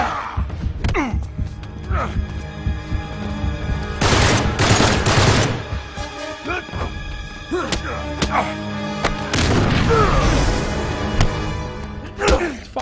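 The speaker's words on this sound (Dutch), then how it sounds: "Die explosieven gingen veel te laat af." Explosions and gunfire in the video game Uncharted 3: Drake's Deception Remastered, with loud bursts of blasts and shots repeating through the action, busiest around the middle and near the end, amid other game sounds.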